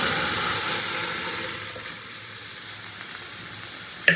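Boiled masoor dal goes into a pan of fried chillies and cumin, and a loud sizzle gradually settles into a quieter simmering hiss, ending with a couple of sharp utensil clinks.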